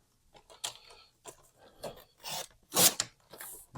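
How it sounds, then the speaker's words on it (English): Card paper for Gelli print stationery being trimmed with a blade or trimmer, heard as quiet, intermittent rasping cuts and scrapes, with a louder sweep near the end and no talking. "I'm going to trim that up here."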